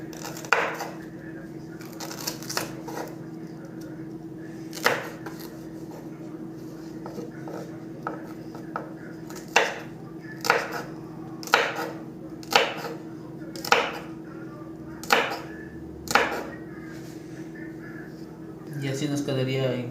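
Sharp knife strokes on a cutting board slicing bell pepper into thin julienne strips, a steady run of distinct close chops spaced about a second apart, under a constant low background hum.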